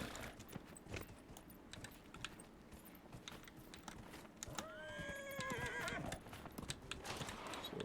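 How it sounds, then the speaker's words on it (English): Horse from the video game Dragon Age Inquisition, its hooves clip-clopping steadily throughout with a clear drawn-out neigh rising midway, set over busy game ambience. "Alright, let's get our fucking horse."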